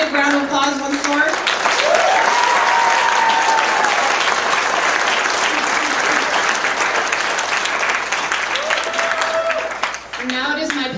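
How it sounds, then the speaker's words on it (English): Graduation ceremony audience gives a big round of applause for the class of 2013 valedictorian, loud, dense clapping from a large crowd sustained for around ten seconds, with a few voices and cheers mixed in. "We can all give them one big round of applause once more."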